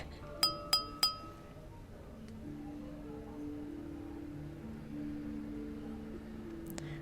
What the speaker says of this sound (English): the crisp sound of clinking glasses captures everyone's attention